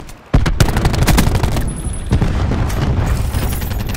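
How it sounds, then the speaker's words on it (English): Cluster grenade bursting in Black Ops 4, a loud sudden onset followed by a rapid chain of sharp blasts and crackling pops that rumble on steadily to the end. "Cluster grenade going out."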